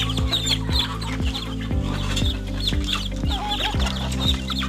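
Native free-range chickens clucking close by, repeated short clucks in an uneven rhythm over a low steady background hum, with no talking.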